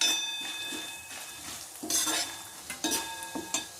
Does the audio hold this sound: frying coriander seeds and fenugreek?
yes